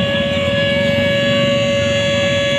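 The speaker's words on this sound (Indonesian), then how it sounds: "nah itu adalah suara sirine dari pelengkung gading" A loud civil defense siren marking the Ramadan fast-breaking time in Yogyakarta, Indonesia, wails in a steady, sustained tone throughout, droning continuously with no pauses or voices over it.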